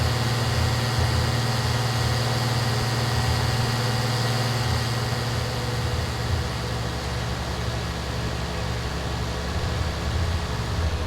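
A tractor engine idles close by, a steady low rumble with a throbbing hum that holds evenly throughout with no talking.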